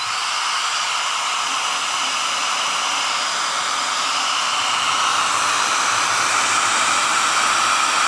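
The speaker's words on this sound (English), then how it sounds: "I know this hair dryer will do up to 1500" A hair dryer rated up to 1500 watts runs from a LIPOWER Mars-1000 Pro portable solar power station at about 1000 watts, making a loud, steady airy whoosh that holds unbroken for the whole stretch.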